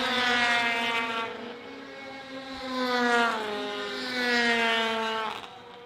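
A 1989 Polaris racing snowmobile on a snowmobile race course screams past at high revs, its loud, steady engine whine rising and falling in pitch as it passes by twice, with no talk over it.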